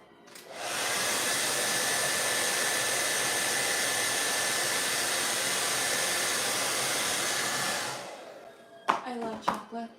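A hair dryer blowing on wet paint runs as a steady, loud whoosh for about seven seconds before shutting off, followed by a few brief knocks and handling sounds.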